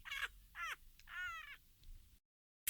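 Harsh cawing calls from a bird, likely a crow, in a children's story: three raspy caws in quick succession, close and clear, followed by silence and an abrupt sound at the very end.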